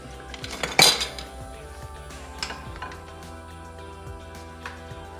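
Jambalaya is served up with pots, pans and utensils clanking and clinking close by, one loud scrape-and-clatter near the start and then lighter scattered clinks.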